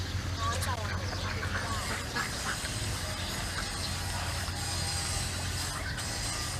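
Ducks quack and scurry at a farm pond, their calls rising over a steady low rumble as people talk nearby.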